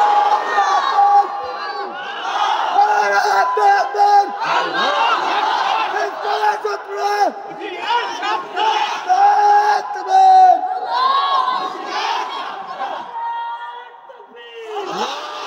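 A large crowd at a Bengali religious sermon roars the takbir chant in loud, repeated collective shouts that rise and fall over about fifteen seconds, with voices overlapping throughout.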